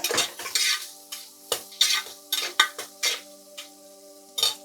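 Green chillies being stir-fried for mutton kulambu, heard as repeated scraping and clinking of a spoon against the pan in uneven strokes over a faint sizzle, close and fairly loud.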